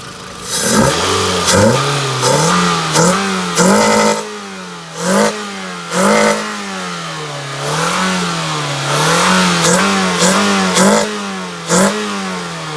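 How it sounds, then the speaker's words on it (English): A 2006 Toyota Solara engine with an aftermarket air intake revs hard again and again in sharp, loud bursts, dropping back toward idle between each throttle blip. "the whole engine shakes like crazy when he does it"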